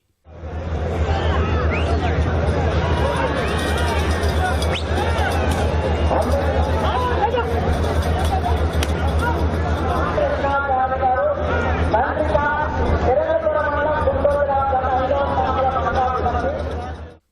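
A large crowd at an Ongole bull strength show cheers and whistles in a loud, continuous roar, with shrill whistles rising above the babble in the second half and voices mixed throughout.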